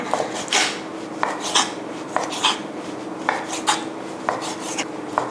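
Repeated knife strokes slicing raw chicken scrape against a board in an uneven rhythm, close and fairly loud, with no voices.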